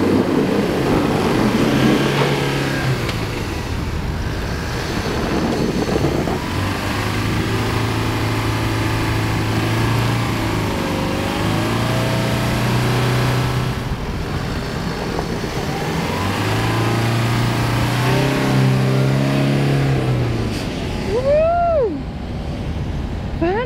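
An overland vehicle struggles in soft coastal sand, its engine repeatedly revving up and easing off in loud rising and falling pulls, with a wavering whine near the end and a steady rush of wind or surf underneath.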